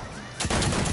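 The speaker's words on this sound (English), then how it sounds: "Why are you shooting me?" Video game gunfire in a duos battle royale match: a quiet moment, then a sudden loud burst of rapid shots that rattles on for the rest of the second.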